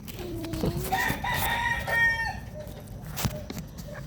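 Cobra King, a pet rooster, gives a close, loud crow among clucking fowl, followed by short clucks and scattered farmyard bird sounds.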